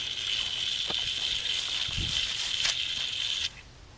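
An automatic livestock waterer fills with a steady, close hiss of running water, broken by a few soft knocks and splashes, before the flow cuts off abruptly near the end.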